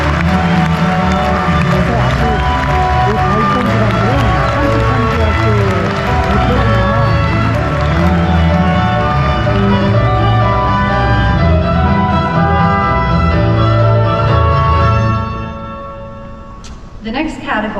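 A large audience at a CEMS Master's in International Management graduation ceremony applauds an award recipient, dense sustained clapping with some cheering and whoops filling the hall for about fifteen seconds before tapering off.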